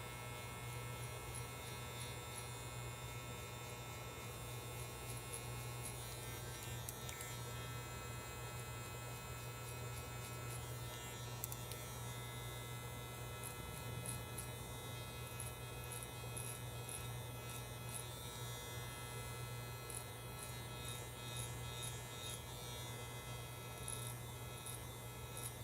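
Electric hair clippers buzz steadily and close up through a home haircut, a constant motor hum with no talking over it.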